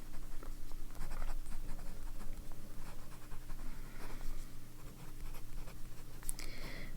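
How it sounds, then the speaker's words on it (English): An extra fine nib fountain pen scratches across journal paper in soft, close, irregular strokes, faint and with nobody speaking. "This is actually my favorite pen to write in my journal"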